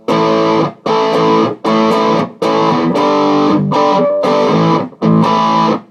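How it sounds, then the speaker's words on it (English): Loud distorted electric guitar power chords strummed in a steady rhythm, about eight sustained hits each cut off briefly before the next. "So that's really all there is to power chords."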